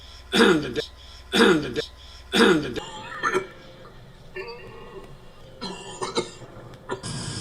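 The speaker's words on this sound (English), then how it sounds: "We've seen him on many occasions where he has a repeated cough." Three loud, evenly spaced coughs ring out close by, followed by quieter talking and a few short throat-clearing sounds.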